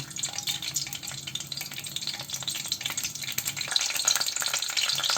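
Whole spices—bay leaf, star anise, cinnamon, cardamom and clove—sizzle steadily in hot olive oil, a continuous close crackle with faint stirring, alone without voices.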